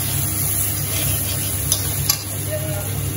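Red chili frying in a pan gives off a steady, close sizzle with a few light clicks of stirring and no talking.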